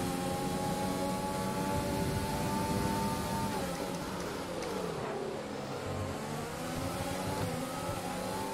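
An F1 car engine in the video game F1 2020 revs through a race, a sustained high whine that climbs and dips through gear changes and plays alone without voices.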